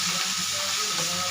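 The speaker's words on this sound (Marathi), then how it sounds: "ही आता आपल्या तेलामध्ये कच्चेपणा जाईपर्यंत परतून घ्यायची आहे" Green chili, garlic and ginger paste sizzles steadily in hot oil in a pan, a brief, even frying hiss heard close up.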